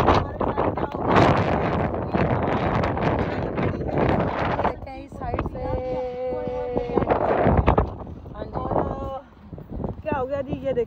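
Strong wind roars across the microphone during an outdoor walk in Dubai, a loud broadband rush with someone talking over it in places.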